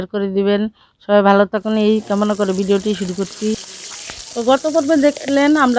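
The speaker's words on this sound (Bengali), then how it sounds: "তো এখন মোরগটাকে ভেজে নেওয়া হচ্ছে।" Rooster meat for morog polao frying in a pan, a soft steady sizzle running in the background beneath a person talking almost continuously.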